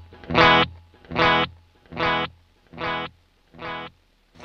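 Electric guitar through a Danelectro PB&J digital delay pedal on a long delay setting: five separate bright, gritty strummed bursts in a slow, even rhythm, each fading before the next, close and fairly loud with no talking.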